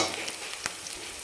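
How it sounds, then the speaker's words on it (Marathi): Three green chilies fry in oil in a pan, giving a dense, even sizzle up close. Faint ticks and one brief scrape come from stirring. "ह्याला पण 1 मिनिटभर आपल्याला हिरवी मिरची परतून घ्यायची"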